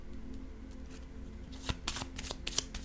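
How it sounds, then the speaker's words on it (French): Oracle cards being shuffled and drawn, a soft continuous riffle that picks up into sharper crisp card snaps toward the end, close and quiet, with no talking over it. "J'ai le goût de prendre une carte rose."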